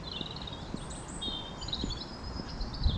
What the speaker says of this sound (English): all I can really hear is bird song